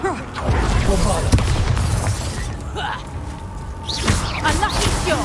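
Bombarda, a blasting spell in Hogwarts Legacy, lands in the middle of a chaotic fight: a loud boom and crackling burst, then debris and further impacts, with several voices shouting over the din.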